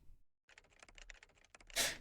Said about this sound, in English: Why is the typing sound looping?